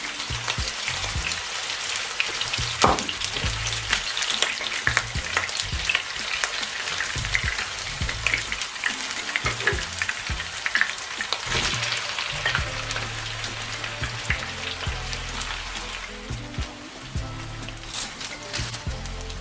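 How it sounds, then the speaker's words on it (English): Onions and apples frying in oil in a pan for liver and onions with bacon give off a dense, crackling sizzle, close and steady throughout, with occasional stirring clicks. "first I'm just going to add the onions and apples and fry them"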